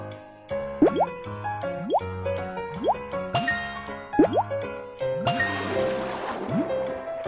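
Cartoon plopping and dripping water effects in a kids' firefighter game as water fills connected pipes, repeated bubbly rising plops over a steady musical backing, with a sizzling splash of water near the end.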